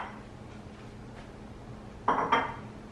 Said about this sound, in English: Let's do some more bowls for sides. And we're just going to place them on either side here.